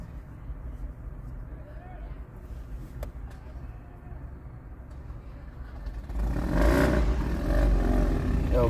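Motorcycles roar past on a road. A steady low rumble builds into a loud, close surge of engine noise near the end, and a voice talks over it.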